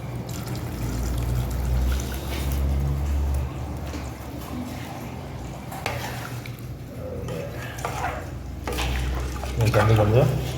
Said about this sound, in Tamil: அதுக்கு தந்தாப்பு தண்ணி ஊற்றிருக்கேன்